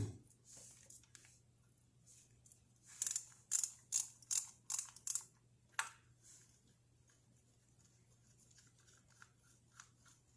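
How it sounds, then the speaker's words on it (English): A ratchet wrench loosening a 24 mm nut on a Cummins diesel injector line, a burst of about seven sharp clicking strokes close to the mic, then brief handling noise and quiet. "my next step is 24 millimeter. Remove the nut on the injector line."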